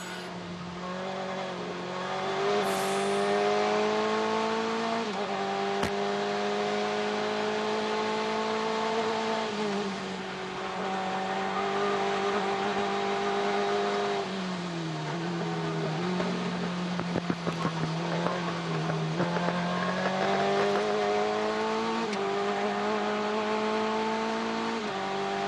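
A race car at the SCCA Runoffs accelerates flat out, its engine climbing steeply in pitch through the gears, dipping briefly at each shift, loud and close throughout with no talk.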